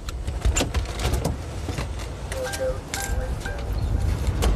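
A police K9 unit car rolls in nearby, its engine and tyres sounding faintly under outdoor ambience, with scattered clicks and bird chirps around it.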